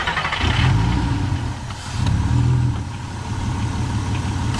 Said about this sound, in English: I'm gonna rev it a little bit and see if the motor shakes.